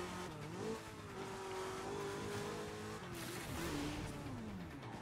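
Lamborghini Countach in Burnout Paradise, a steady engine drone that rises in pitch then dips and climbs again as the car accelerates and shifts, loud and continuous with no talking.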